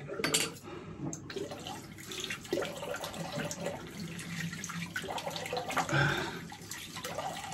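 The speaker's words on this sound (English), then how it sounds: "Let me just rinse this off." Water running from a tap while soap is rinsed off under it, a steady splashing flow with a few clinks of the sink, close and alone without talk.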